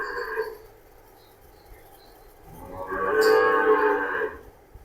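A large bull at a dairy farm gives a loud, drawn-out moo near the end, preceded by a shorter, fainter low call, with quiet barn ambience between.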